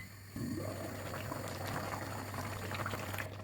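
Prawn and catfish sauce for owo simmering in a covered pot, a sudden onset of continuous bubbling boil that stays steady and close over a low hum.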